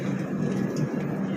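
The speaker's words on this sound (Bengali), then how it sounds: "এই যে আমাদের ট্রেন চলে এসেছে," A passenger train pulling into a large station in the rain, a continuous low rumble and hum that holds steady and close throughout, with no talk.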